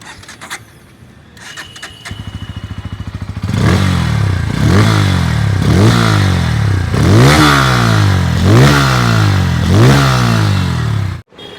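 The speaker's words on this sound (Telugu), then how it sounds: "ఒకసారి ఎగ్జాస్ట్ నోట్ అయితే విందాం" A Bajaj Pulsar N160 motorcycle with an underbelly exhaust idles with a clattering putter, then the throttle is blipped repeatedly in a rhythmic series of sharp revs, loud and close.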